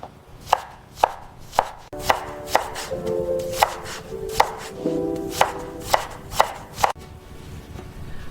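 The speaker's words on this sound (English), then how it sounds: "Next, I chop all my vegetables into even sizes." A knife chops on a cutting board in a steady rhythm, about a dozen sharp, close thuds with a faint hum underneath.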